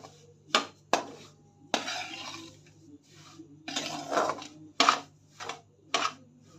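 A spoon clinks and scrapes in a pan as semolina roasts in ghee for banana sheera, in short irregular bursts of metallic stirring with quiet gaps between.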